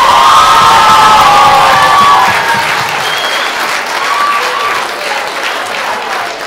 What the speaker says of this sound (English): One giant big round of applause for all the performers tonight.